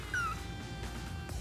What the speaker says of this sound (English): There's a little meow.